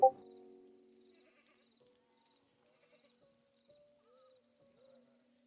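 A single loud sheep bleat opens close by, one of many sheep out front on a lively farm, then fades into near silence with a few faint distant sounds.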